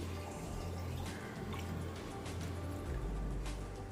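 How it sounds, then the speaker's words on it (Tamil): Water pours steadily into a container for a few seconds while making panakam, a continuous splashing gurgle with no voices. "2 டம்ளர் அளவுக்கு தண்ணி சேர்க்குறேன்"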